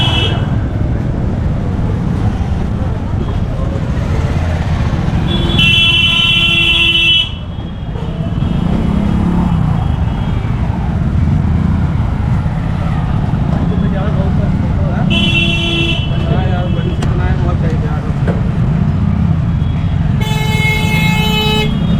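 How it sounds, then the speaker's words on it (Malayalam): Vehicle horns honk in repeated bursts along a narrow market road lined with cloth shops. Several loud toots come at intervals over a steady rumble of traffic and busy street noise, with voices mixed in. "ഏറ്റവും വലിയ പ്രശ്നം എന്ന് പറഞ്ഞാൽ അനാവശ്യത്തിന് എല്ലാം ഹോണടിയാണ് വലിയ പ്രശ്നം."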